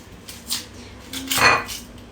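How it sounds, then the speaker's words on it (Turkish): A knife cuts the top off an onion and splits it in half on a board, giving a few close, crisp knocks and scraping strokes, with the loudest cut near the end, over a quiet kitchen background. "Bir adet soğanın baş kısmını kesiyorum ve ortadan ikiye bölüyorum."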